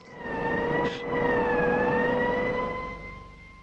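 An ambulance siren wails in a sustained rising-and-falling tone over traffic rumble, swelling loud through the middle and fading slightly toward the end.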